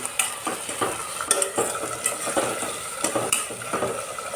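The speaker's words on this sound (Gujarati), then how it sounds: "ગુવારને થોડીક વાર તેલમાં ફ્રાય થવા દેવાનું" Cluster beans (guvar) frying in oil in a pan, with a continuous crackling sizzle broken by repeated scraping stirs of a spatula, close and steady throughout.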